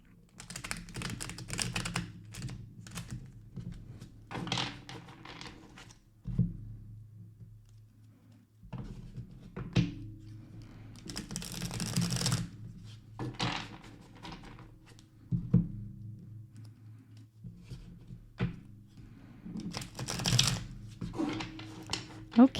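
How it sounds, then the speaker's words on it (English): A deck of oracle cards is shuffled in quick bursts of soft riffling and flicking, with brief pauses between handfuls, close and fairly quiet. "I'm going to give it a quick shuffle and then we'll get right into it"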